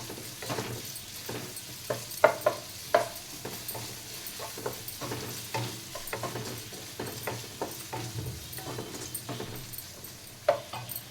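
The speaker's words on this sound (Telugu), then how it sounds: "అల్లం వెల్లుల్లి పేస్ట్ ఫ్రై అయిపోయింది" Ginger garlic paste frying in a pan for paneer fried rice, a low sizzle under repeated scraping and clinking strokes of a spoon against the pan, close and moderately quiet.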